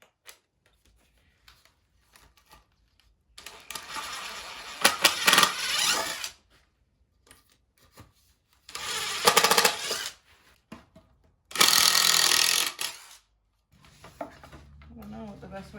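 Countersink bit drilling into wood for a camper van bed frame, three separate loud whirring bursts of a couple of seconds each, with quiet pauses between them.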